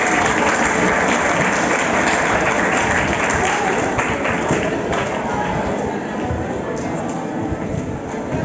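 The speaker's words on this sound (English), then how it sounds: "keep the applause going for Jamari as he comes now" Applause from a crowd at a school boys' empowerment day as a guest speaker comes forward, a loud, continuous clapping wash that eases slightly toward the end, with voices mixed in.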